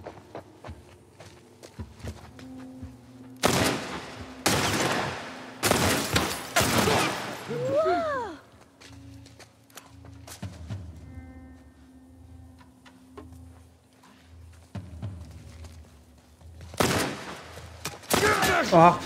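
Several bursts of loud gunfire from the video game The Last of Us Part 1, scattered across the clip, with quieter game sounds and rumbles between the shots.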